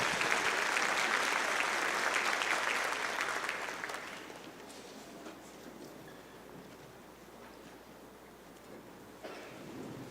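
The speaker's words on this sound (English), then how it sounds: "Y'all give them a round of applause." Audience applause for panel speakers at a luncheon, a loud sustained round of clapping for about four seconds that then thins to a lighter, quieter patter through the rest of the clip.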